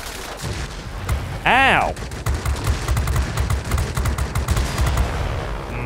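Aircraft guns chatter in bursts of rapid fire during a World of Warplanes dogfight, with a rising engine whine and a brief voice cutting in over the shooting.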